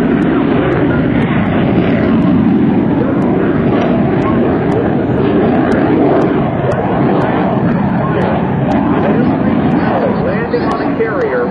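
F/A-18C Hornet jet roaring loudly and continuously during an airshow demonstration at NAS Oceana, a broad sustained engine rumble with crowd and announcer noise mixed in.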